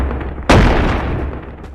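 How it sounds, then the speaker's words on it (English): A single loud shotgun blast from the VR video game Animal Company, a sharp broadband boom that rings out and decays over a steady background, with no talking. "reload the shotgun"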